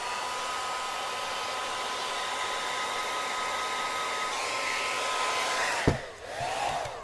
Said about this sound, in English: I have my blow dryer and I'm going to dry up all of that paint.